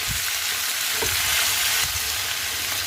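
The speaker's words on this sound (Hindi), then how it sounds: "इसे हम तेल में डाल देते हैं और इसे भी हम साथ में प्याज के साथ भून लेते हैं।" Red tomatoes and onion fry in hot oil in a pan for a Punjabi-style rajma, giving a steady sizzle with a few stirring knocks and no talk.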